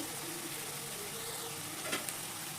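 Onions with crystal salt fry in a pan for a drumstick curry cooked with milk, giving a soft, steady low sizzle with a couple of light stirring scrapes toward the end.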